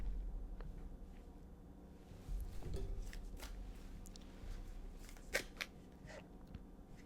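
Tarot cards being shuffled and pulled from a deck, quiet papery riffles and sharp card snaps scattered irregularly, close and soft, with no talk.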